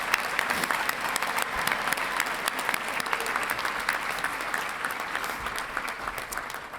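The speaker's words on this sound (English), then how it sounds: "Please join me in applauding the accomplishments of this group of" Steady applause from a large crowd at a college graduation ceremony, dense rapid clapping that holds at an even level throughout without any voices.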